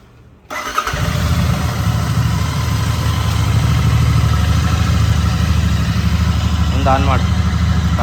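A motorcycle engine catches on a cold start and settles straight into a loud, steady, close idle that runs on without revving, a brief voice heard over it near the end.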